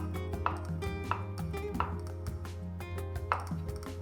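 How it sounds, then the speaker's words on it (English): Knife cutting thick slices of mushrooms on a board, a series of soft irregular chopping taps, close and fairly quiet, with no talk. "So good thick cuts of mushrooms."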